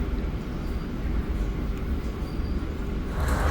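The Gunung Jati passenger train departs Bekasi station, with a heavy low rumble and steady rolling rattle of rail cars heard from inside, loud and continuous throughout.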